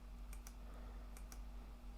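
Two quick pairs of crisp computer mouse clicks, close and fairly faint over a steady low electrical hum.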